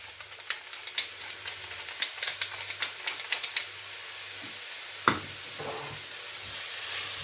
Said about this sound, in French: Nous allons commencer par cuire les poireaux. Avec du sel et du poivre.